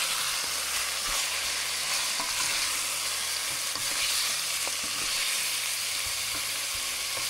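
Eggplant frying in a hot pan gives a steady, close sizzle with soft stirring scrapes throughout, loud and continuous with no talking.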